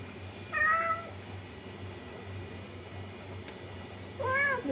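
Two short, clear meows from a house cat, one near the start and one at the end, rising over a low steady room hum with no talking in between.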